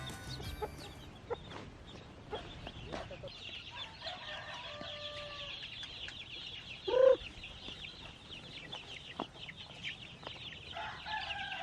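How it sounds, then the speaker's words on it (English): Native chickens cluck at feeding time on a local poultry farm, with scattered soft clucks and calls throughout, one sharper squawk near the middle, and someone speaking briefly amid the flock. "Now we will feed our native chicken."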